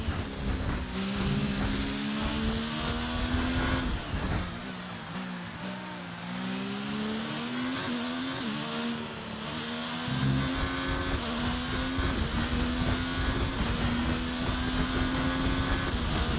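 A Formula 1 race car engine in the video game F1 2019 screams and revs loudly at the Australia track, pitch climbing and dropping through gear shifts, with brief tire squeals and no talking.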